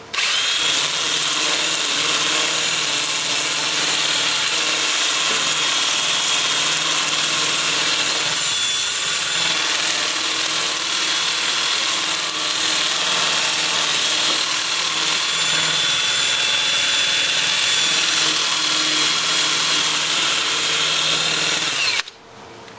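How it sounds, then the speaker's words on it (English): A Siberian elm bowl spins on a wood lathe while a 2-inch sanding disc works its surface. A steady, loud, whirring abrasive hiss runs without a break for over twenty seconds, then stops suddenly at the end. It is close and no one talks. "I'll switch to my 2-inch disc, starting at 80 grit, working up through 400"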